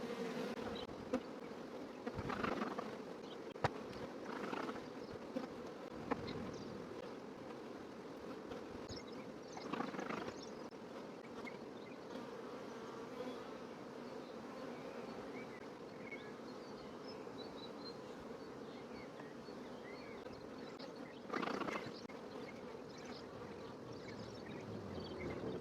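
Bees from a very populous hive swarm around during an inspection, a soft continuous drone with individual buzzes rising and passing close, and occasional dull knocks and shuffling handling sounds.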